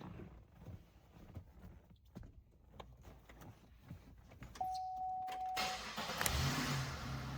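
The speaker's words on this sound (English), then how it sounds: "Start it up, Isaac." A 3800 V6 engine in a yellow Monte Carlo SS cranks and catches, then settles into a rumbling idle with a brief rising tone, after scattered clicks and knocks.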